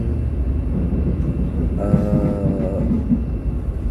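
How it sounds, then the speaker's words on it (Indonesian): Gajayana Tambahan passenger train running through the Karangkates area near Malang, a steady low rumble of wheels and carriage noise with a faint tonal whine midway, heard from on board. "kereta api Gajayana Tambahan sudah melintasi dua terowongan ya, yaitu terowongan Karangkates 1 dan terowongan Karangkates 2"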